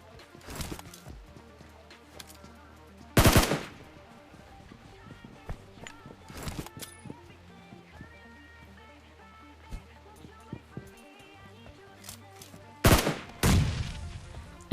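Gunfire in PUBG Mobile, several loud sharp shots in separate bursts with scattered footstep-like clicks and game noise between them, a few quieter pops along the way.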